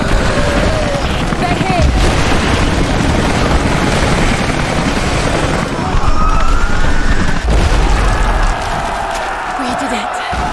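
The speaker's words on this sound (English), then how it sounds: "chopper should be in range." A helicopter in the video game Rise of the Tomb Raider roars with a loud, steady rotor thrum that runs throughout, mixed with game effects and occasional bursts of noise.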